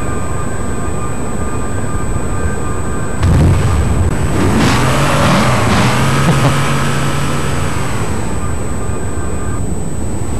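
Halo 3 vehicle engine in gameplay, the Warhawk, a steady mechanical hum with a rising then falling whoosh and whine in the middle as it drives past, loud and close.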